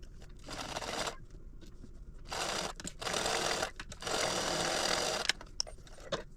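A sewing machine stitches a fabric wristlet in several short runs, a close, steady whirring hum that starts and stops with brief gaps and a few clicks between runs.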